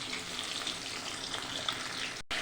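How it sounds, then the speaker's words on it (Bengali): Katla fish pieces frying in hot oil in a kadai, a steady, close crackling sizzle with small popping spits, cut off abruptly near the end before resuming briefly. "মাছগুলোকে ভালো করে ভেজে নেব"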